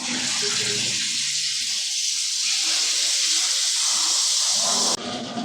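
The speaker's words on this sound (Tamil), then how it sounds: "நெய் மீன் இப்போது வறுத்து எடுத்துக்கலாம்" Marinated ghee fish fries in a pan with a loud, continuous hiss and sizzle, steady and close, cutting off sharply near the end, with no talk.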